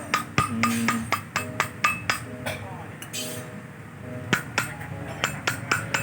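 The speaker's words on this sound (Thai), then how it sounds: "เราใช้ทุบเอางี้ได้ นี่คือบดวาวนะครับ" Repeated sharp metallic taps from hammering a valve onto its seat to lap it on a Meo125 motorcycle engine, in irregular bursts with a short pause midway, close and fairly loud.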